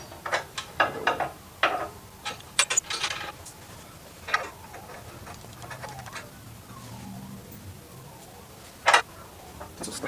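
Ratchet wrench backing out 14 mm bolts on a 2015+ S550 Mustang Procharger supercharger during removal, short clicking bursts and metallic ticks scattered across a quiet garage.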